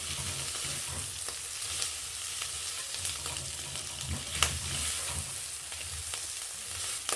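Chopped matumbo (beef tripe) frying in a pan as it is stirred, a steady bright sizzle with scraping spoon strokes and occasional sharper clicks against the pan.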